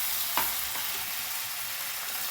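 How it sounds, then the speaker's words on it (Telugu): Ginger garlic paste sizzles in hot oil for an egg masala curry, a steady close crackle with a couple of brief stirring scrapes near the start. "ఒక స్పూన్ అల్లం వెల్లుల్లి పేస్ట్ వేసుకుని దీన్ని కూడా బాగా ఫ్రై చేసుకుందాము."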